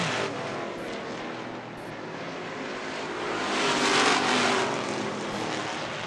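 A race car being fired up after spinning into turn 3 at a short-track stock car race: a steady, distant engine roar that swells louder near the middle and then eases off slightly.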